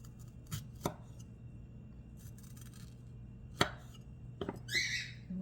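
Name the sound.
knife slicing strawberries into fantails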